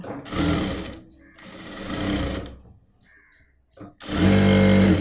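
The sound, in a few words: sewing machine stitching a nightie fabric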